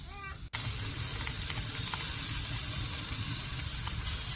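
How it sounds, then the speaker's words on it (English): Eggs fry on an outdoor grill with a steady, close crackling sizzle that runs continuously after a brief squeaky noise at the start. "Listen to the sizzle."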